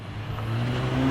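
VW Golf Mk8 engine with a Racingline intake revving on a dyno, a brief, moderately loud, steady low drone lasting about a second.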